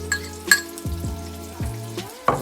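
Fish fingers frying in a pan give a soft, steady sizzle, with a few sharp clinks and knocks of utensils against cookware and some low tonal background hum.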